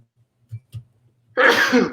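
A single sharp sneeze bursts out close and loud after a couple of soft breathy catches, ending the moment abruptly.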